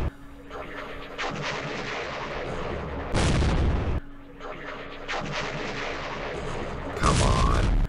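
Artillery fire in the war game Campaign Series Middle East: two heavy booming salvos, each a long rumbling roll ending in a sharp loud blast, spaced a few seconds apart.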